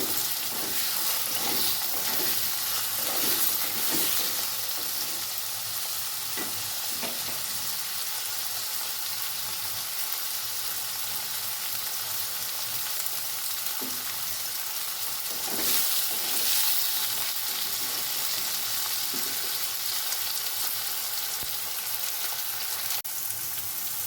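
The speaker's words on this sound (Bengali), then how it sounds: "এবার আমি আরেকটু নাড়াচাড়া করে নেব।" Pumpkin and potato pieces sizzle steadily as they fry in a pan, with repeated scraping strokes of a stirring spoon cutting through the constant crackle, close and clear with no talking.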